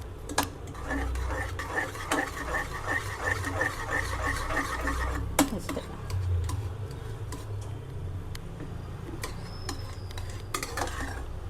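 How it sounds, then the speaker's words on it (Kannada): Cooked lentils are mashed in a pot with soft, rhythmic squelching pushes and light metal taps, all over a steady low kitchen hum, no talking. "ಸ್ವಲ್ಪ ಮ್ಯಾಶ್ ಮಾಡ್ಕೋಬೇಕು ಅದನ್ನು"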